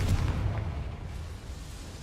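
A Confringo blasting spell explodes in Hogwarts Legacy, a deep, rumbling boom that trails off into a fading low roar.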